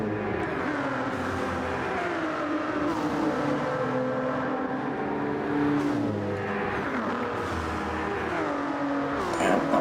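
A race car in Gran Turismo 7 on the Monza circuit, engine revving hard and climbing through gears, then dropping down for the Parabolica corner; loud, continuous close engine whine with rising and falling pitch sweeps, no speech.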